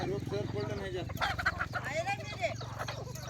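Native village hens, roosters and chicks cluck and call nearby while people talk loudly over them throughout.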